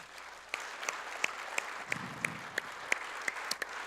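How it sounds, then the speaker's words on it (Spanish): A church congregation claps steadily in a large room, with a few louder individual claps standing out above the steady patter. "¿Por qué no le da un aplauso al Señor por eso?"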